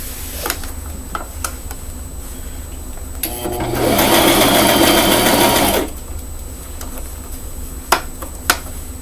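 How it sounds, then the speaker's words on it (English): Close up, a sewing machine runs one steady burst of fast whirring stitching on the pleats of a pink frock, framed by soft clicks and fabric handling, with a couple of sharp taps at the end. "And sewing pleats are always a little difficult if they are not ironed in."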